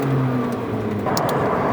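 A McLaren 750S turbocharged engine pulling hard at the top end on a road test, a steady close whirring roar that rises in pitch and intensity about halfway through, with no voices.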